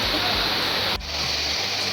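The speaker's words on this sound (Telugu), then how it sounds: "వాటర్ సౌండ్ చాలా బాగుంది కదా" Abbi Falls waterfall in Coorg, Karnataka, gives a loud, steady, broadband roar of falling water that runs continuously, with one brief dip in level near the middle.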